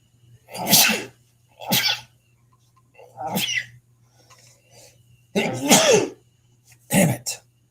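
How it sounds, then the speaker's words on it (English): Several loud, close sneezes from a person with a days-long sneezing bout, five sharp bursts spaced about a second apart with a few breathy throat noises between them, heard over a faint steady hum. "I have been sneezing for like the last 4 days, just randomly."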